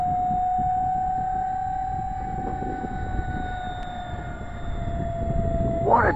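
A Concorde jet takes off at Ventspils Airport, giving a steady, loud roar with a sustained high whine throughout; the roar swells near the end.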